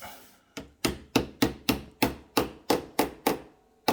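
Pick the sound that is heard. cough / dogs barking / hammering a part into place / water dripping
hammering a part into place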